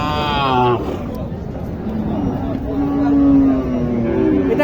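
Thin, bony cows moo at the Mataji cattle market in Mahadevpur, Naogaon, with two long, near moos rising over a steady crowd babble and talk.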